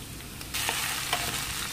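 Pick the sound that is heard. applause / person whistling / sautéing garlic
sautéing garlic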